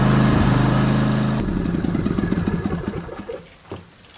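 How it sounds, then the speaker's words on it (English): A John Deere riding mower engine runs loud and rough at first, then settles into a lighter, pulsing idle that gradually quietens toward the end. "We will need to start the engine and let it run for approximately 30 seconds."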